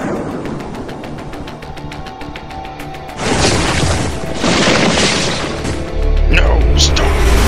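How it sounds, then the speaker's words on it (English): A weapon blast from a Transformers fan video, heard as a rapid string of sharp pulses under the first half, then loud sustained roaring bursts of explosive noise that swell and renew toward the end. "Preparing for second firing."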